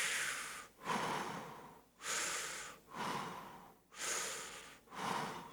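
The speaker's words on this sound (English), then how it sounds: "Okay, breathe in." A person draws several slow, deep breaths in through the nose during a guided relaxation exercise, with about five close, airy inhale-and-exhale cycles in a steady rhythm.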